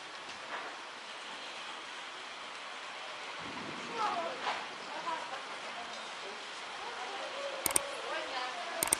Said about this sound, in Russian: Дождь пошел.